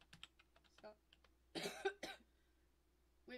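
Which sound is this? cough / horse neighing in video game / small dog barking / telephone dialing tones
cough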